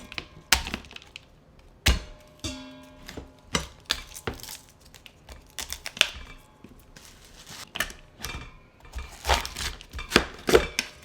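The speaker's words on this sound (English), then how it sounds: "we're going to start by chopping up 2 heads of cauliflower" A knife chops two heads of cauliflower on a board, giving a loud, irregular run of sharp thunks with short pauses between bursts.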